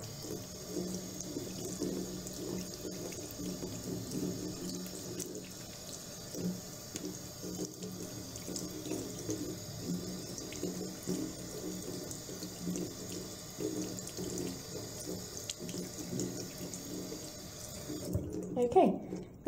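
A kitchen or bathroom tap runs steadily while makeup brushes are rinsed under it, a constant close splashing stream with small fluctuations from the brushes moving through the water.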